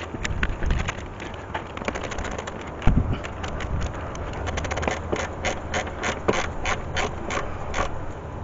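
Ratchet tightening valve cover bolts on a 1997 Nissan Pathfinder during a valve cover leak repair, giving close, steady runs of rapid metallic clicks that continue throughout.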